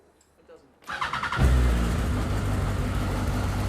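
Starter whirs briefly on a supercharged Raw Striker 240S sports car, then the engine catches with a loud bark and settles into a steady, rumbling idle close by, following a quiet workshop lead-in.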